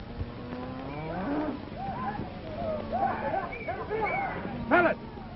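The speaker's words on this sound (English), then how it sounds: "Fellas, get those cattle back." Cattle moo again and again in a 1945 western, a loose herd lowing near and far with overlapping calls, and someone shouts under them.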